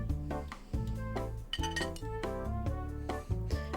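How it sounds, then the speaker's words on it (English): Cutlery and dishes clink and rattle in a kitchen, with quick metallic chinks and ringing glassy tones piling up in an uneven, busy clatter close at hand. "There came the sound of cutlery being fumbled with in the kitchen below."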